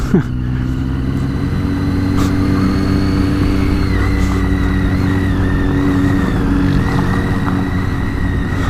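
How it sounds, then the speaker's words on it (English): Classic racing cars lapping a track at a social motoring event, heard from trackside as a continuous engine roar with rising and falling whines of passing cars at moderate distance. "in the background, you've got all these lovely old classics racing around"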